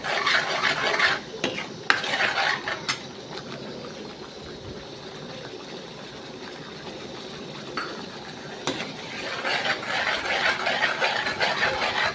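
Red masala sautéed and stirred in a pan for crab curry, bursts of scraping and clinking spoon strokes against the metal at the start and end, a quieter hissing stretch between, close by with no speech.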